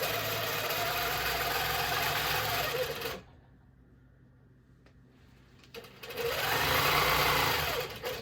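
Longarm quilting machine stitching through layers of fabric, a loud steady mechanical whirring that stops briefly, leaving near silence, then starts up again.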